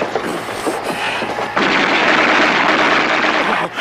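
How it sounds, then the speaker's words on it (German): Cannons fire in a Laurel and Hardy comedy, "Grosse Kaliber", making loud, sustained rumbling blasts that swell sharply halfway through the short burst. "Die feuern aus Kanonen."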